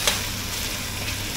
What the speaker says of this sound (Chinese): 两面稍微煎一下，给它的皮紧致一下，锁住